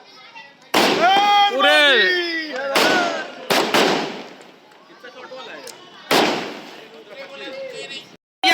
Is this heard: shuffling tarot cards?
no